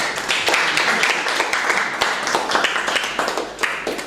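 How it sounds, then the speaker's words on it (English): Conference attendees at an oil industry event give the chairman a round of applause, a moderate, steady spread of many hands clapping with a few sharper claps throughout. "Thanks, a round of applause."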